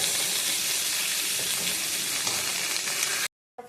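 Neem leaves frying in hot oil together with another ingredient give a steady, dense sizzle that holds close and loud without pause, then cuts off abruptly near the end.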